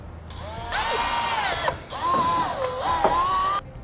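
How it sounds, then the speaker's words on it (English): A power drill whirs up close in two long bursts, drilling a small hole in the corner of a vehicle's plastic panel, its pitch dipping and rising as it bites into plastic, then spins down. "we're just going to drill a small hole right into the corner."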